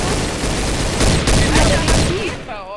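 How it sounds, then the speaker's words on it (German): Rapid bursts of gunfire in the Trouble in Terrorist Town game, loud and dense through most of the moment, with voices talking faintly beneath before it thins out at the end. "Der hat auf mich geschossen."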